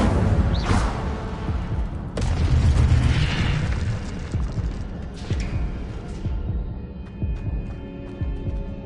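Fiery blasts of the Incendio spell in the video game Hogwarts Legacy, a series of loud booming bursts with crackling impacts, strongest early and then settling into a rumbling fade.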